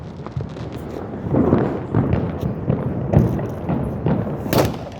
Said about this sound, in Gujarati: આ તો અલગ અલગ ફટાકી આવે છે મારે મોટો બધો બમ મૂક્યો છે